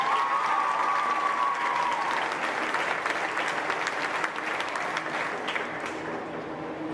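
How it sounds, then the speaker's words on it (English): Sustained applause from a county fair showmanship audience, a dense wash of many hands clapping loudly, steady throughout and easing slightly toward the end, with faint crowd murmur and a brief whistle near the start. "But give him a huge round of applause."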